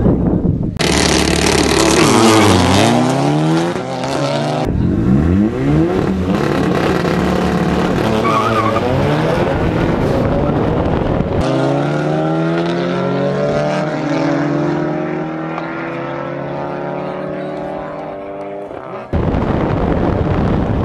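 Two Audi S3 cars launch side by side in a street race, engines roaring loud and close as they rev through gear changes, rising and falling in pitch over the run with a brief cut partway through.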